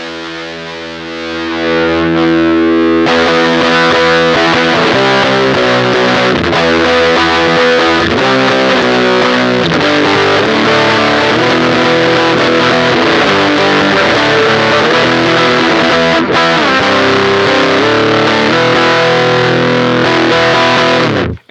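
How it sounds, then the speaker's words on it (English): Loud fuzz-drenched electric guitar through a Whimsy Machines JEFF fuzz pedal plays continuous chords and riffs, thick and saturated, swelling in after a quieter start and sustaining throughout. "If we turn it up, we get fuzzier sounds."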